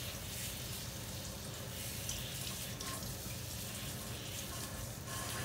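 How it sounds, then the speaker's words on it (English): Kitchen faucet running steadily as lemons are rinsed under the tap, a constant close hiss of flowing water without pause and no talking. "Let me rinse off these lemons and get ready to get everything in."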